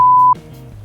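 A censorship bleep: a single steady electronic tone, loud and clean, lasting about a third of a second before cutting off into a quieter low background hum.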